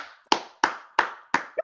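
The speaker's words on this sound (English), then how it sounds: "Let's get a round of applause for the St. Louis Battlehawks." Several slow, evenly spaced claps, about five sharp hand strikes in under two seconds, close and dry, with no crowd or talk.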